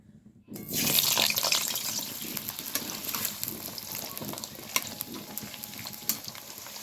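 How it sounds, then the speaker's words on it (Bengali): After a brief quiet start, a loud burst of sizzling erupts as cut potatoes hit hot mustard oil, then settles into steady crackling frying with scattered pops. "সরষের তেলটা গরম হয়ে গেছে। এবার আমি কেটে রাখা আলুগুলোকে দিয়ে দেবো।"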